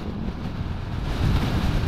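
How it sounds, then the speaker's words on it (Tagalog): Strong wind buffets the microphone while riding a Honda motorcycle on the road from Vigan City to Pamplona, Cagayan, a steady loud rushing roar that swells louder in the second half. "Sobrang lakas ang hangin."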